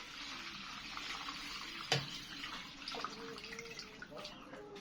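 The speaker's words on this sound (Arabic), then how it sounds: "هننزل باللبن بقى" Milk poured into a rice dish (roz me'ammar), a steady wet liquid pour with a soft splash near the start, fairly quiet and close.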